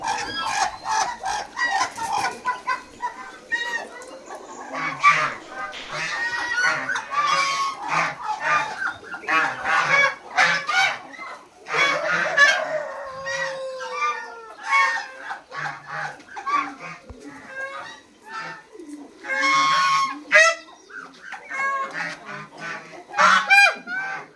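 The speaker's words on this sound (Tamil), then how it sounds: "எனக்கு முன்னால் பாருங்கள் ஒரு இருபது இருபத்தஞ்சி வாத்துகள் வாத்து கூட்டம் அது நடந்து போகிற அழகை நான் இப்போ தாங்க நேரில் பார்க்குறேன்" A flock of about twenty to twenty-five ducks walks along at a farm house in a dense forest in the Nelliyampathy hills, with busy honking and quacking calls overlapping close by throughout, rising and falling in bursts.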